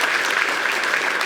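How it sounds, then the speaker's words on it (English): Audience applause fills a press conference room for an athletic director at a men's basketball coach's introduction, a steady, dense clapping held for about a second without voices. "Give him a round of applause."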